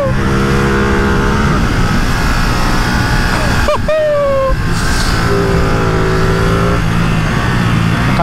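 Ducati Streetfighter V2 engine pulling hard on a road test ride, a loud close-up roar rising in pitch, a sharp blip at a gear change, then climbing again under steady wind noise.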